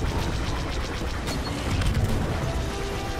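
Gunfire crackles through a Star Wars Battlefront II campaign battle. Rapid bursts of blaster shots and impacts layer over a steady, noisy combat din, and no one speaks.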